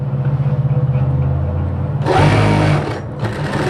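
Sewing machine stitching a side pocket onto a kameez: a steady rhythmic motor whir for about two seconds, then a louder, busier run of stitching close up with no talking.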